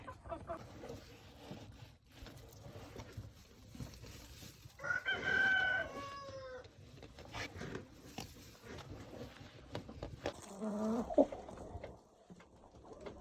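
Chickens in a quiet yard: a rooster crows once clearly midway, followed later by a short squawking cluck, with faint background rustling.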